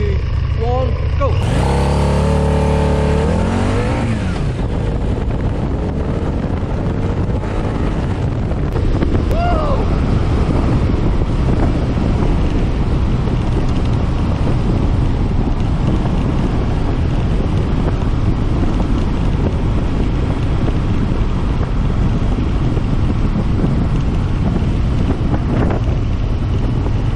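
A Harley-Davidson V-Rod motorcycle accelerates hard from a start, its engine revving and rising in pitch before giving way to roaring wind buffeting the microphone at speed, with a rider's voice at times.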